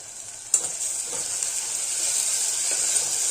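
Ginger garlic paste sizzles steadily in a hot pan after a sharp initial hiss, with occasional faint scrapes of stirring.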